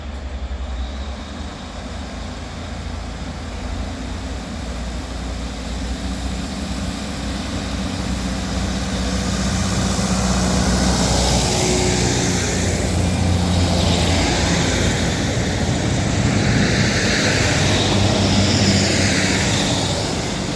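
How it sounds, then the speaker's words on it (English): A Northern Class 150 diesel multiple unit pulls out of Blackburn station, its engine droning low and steady and building in loudness as it accelerates away, with a rising broadband rumble and no talk. "I'll catch the 150 unit when this departs"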